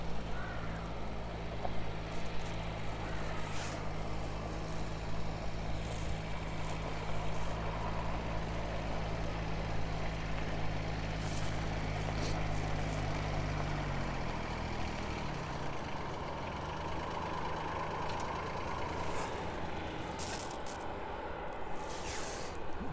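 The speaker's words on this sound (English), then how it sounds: "Jet 2, the next aircraft to make its way down to us this morning." A Jet2 airliner descending toward an airport on a morning approach, heard as a steady broad jet engine roar that holds throughout, with a low drone fading out midway and wind noise over it.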